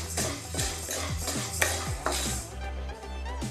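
Urad dal dry-frying in a pan, with scraping stirs and light rattling of the lentils against the metal, close and fairly quiet with no talking.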